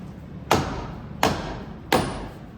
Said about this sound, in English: It's always handy to have a soft-faced hammer.